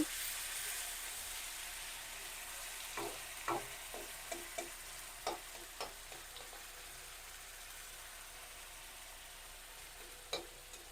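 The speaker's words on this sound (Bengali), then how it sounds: "পেঁয়াজটা হালকা করে একটু ভেজে নেব।" Onion frying lightly in hot oil in a pan gives a steady, soft sizzle broken by scattered crackles and a few stirring clinks, heard close and fairly quiet.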